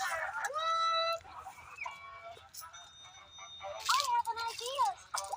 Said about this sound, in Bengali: বাঁধা আছে মুরগিগুলো।